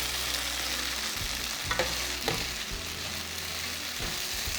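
Dried red chilli, curry leaves and green chilli fry in hot oil with a steady, moderately quiet sizzle, broken by a few sharp scrapes of a spoon stirring them in the pan.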